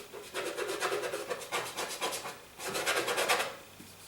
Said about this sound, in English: sorry to make all this scraping noise